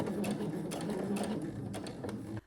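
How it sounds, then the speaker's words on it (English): A domestic sewing machine runs in a quick continuous whir, stitching lingerie seams flat, with a brief pause midway and the motor cutting off abruptly just before the end. "Then I'll add a small stitch on the sewing machine here, here, here, and here to keep the seams flat."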